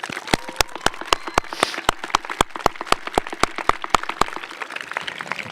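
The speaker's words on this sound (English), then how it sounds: "Let's give them a huge round of applause." Scattered applause at a Mountain Home High School 2024 graduation ceremony: distinct, spaced-out claps from a few nearby hands, steady and moderately loud, with no talking.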